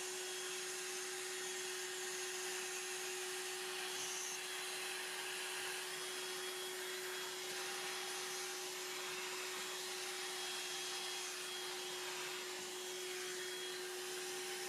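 A Hoover Air Cordless 20V lithium-ion bagless hand vacuum runs steadily, a loud constant whine with a strong fixed tone and airy hiss, no speech over it.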